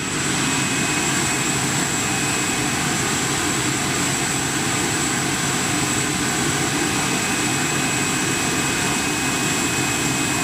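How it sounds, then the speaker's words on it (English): The auxiliary power unit of a British Airways Boeing 747 in retro livery runs at London Heathrow, a loud, steady turbine roar with a constant high whine and no pause throughout. "APU, auxiliary power unit. That is what's making all the noise right now, folks."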